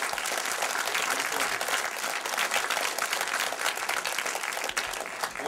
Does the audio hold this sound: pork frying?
no